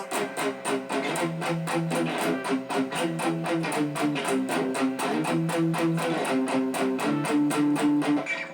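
Tight, chugging palm-muted electric guitar power chords repeat in a quick, steady rhythm, each hit short and choppy, with no voices.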